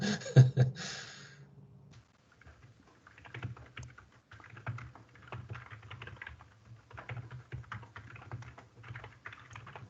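Typing on a computer keyboard, rapid close clicking keystrokes in steady runs with brief pauses, following a short burst of other noise at the start.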